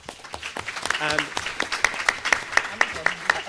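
A conference audience applauds a digital tourism marketing panel at the end of their debate: scattered, rhythmic claps over a low hall murmur, and a speaker's voice comes in partway through.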